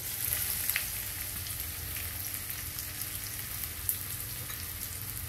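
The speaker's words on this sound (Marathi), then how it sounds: "कांदा छान परतून घेऊ." Onions sizzle steadily in hot oil with curry leaves for pav bhaji, a continuous close crackle with a few sharper pops and occasional stirring scrapes.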